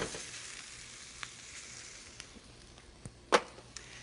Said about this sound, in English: Now I'll add my meat. This is 1 pound of extra lean ground beef.